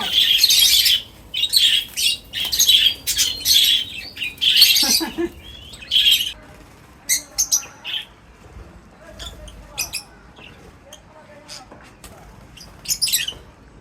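Pet lovebirds in a home aviary squawk and chirp loudly and continuously at close range, with dense shrill calls that thin out into scattered chirps and a few wing flutters later on.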